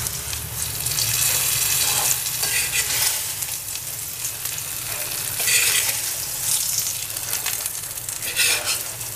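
Curry leaves and chili powder frying in oil for a Kerala clay pot meal, a steady close sizzle with bursts of stirring and scraping, no voices.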